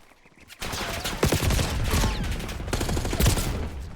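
Rapid bursts of gunfire in a Black Ops 6 gunfight, starting abruptly after a quiet moment and continuing as loud, dense automatic fire.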